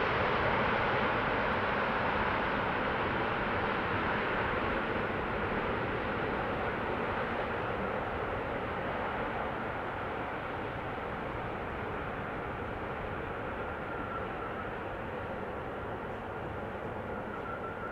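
An aircraft passes overhead at Amsterdam Schiphol Airport as a steady, fairly loud jet roar that holds for the whole stretch and fades only slightly toward the end.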